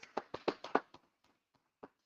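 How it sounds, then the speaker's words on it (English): A brief burst of clapping from a small group at a religious gathering, a handful of quick close claps that thin out within a second, followed by a few scattered stragglers and then quiet. "Let's clap it up for the Most High in Christ."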